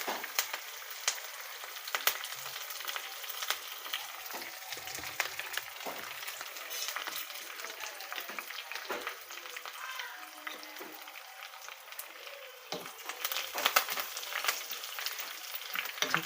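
Dried red chilies and curry leaves fry in hot oil for elakai pachadi, a close, continuous crackling sizzle dotted with sharp pops and occasional stirring scrapes, with no voices.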